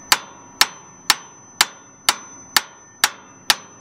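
A hammer taps a metal piece of a seed drill eight times in a steady, evenly spaced rhythm, each strike a crisp, close ringing clank with a quick decay, heard alone.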